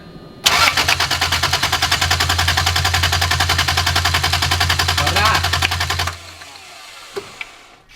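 Engine of a Mazda Miata NBFL cranking on the starter during a compression test, a loud rapid rhythmic churning that starts abruptly and runs steadily for about six seconds before cutting off, followed by faint clicks.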